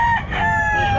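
A rooster crows once at a Calumpit pet market, a short, loud, close call with a rising then sustained harmonic tone, heard alone without talk.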